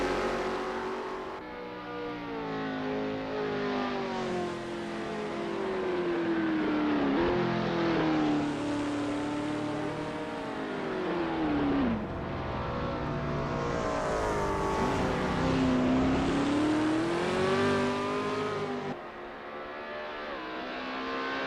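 1969 Formula 5000 race cars lap the Oesterreichring in Assetto Corsa, engines roaring continuously and loud as they rise and fall through gear changes, with repeated upshifts and sweeping pitch climbs.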